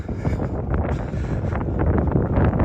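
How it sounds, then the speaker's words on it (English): Wind buffeting a microphone outdoors during a walk, a continuous rough low rumble with gusty fluctuations and no speech. "if you hear just wind, I'm sorry"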